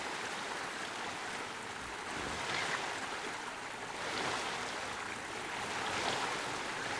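Rushing, splashing water from a water slide ride in the theme park game Planet Coaster 2, a steady broadband wash with gentle swells, no voices.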